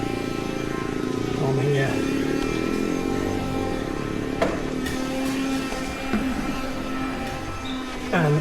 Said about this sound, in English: I then use a Karcher vac